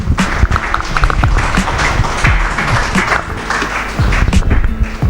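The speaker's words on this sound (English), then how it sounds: "Come on, we can do a better round of applause than that." A crowd applauding at a hackathon in Nairobi, steady dense clapping throughout, loud and close with a few sharp individual claps standing out.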